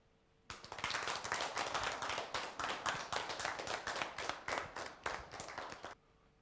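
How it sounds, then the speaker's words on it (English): A studio audience at a talk show applauds the day's guest, a steady burst of many hands clapping that starts abruptly, holds for about five seconds at even strength, then stops cleanly. "let's give a round of applause again for the guest of the show today in the Talking Show"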